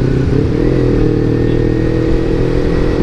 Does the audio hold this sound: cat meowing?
no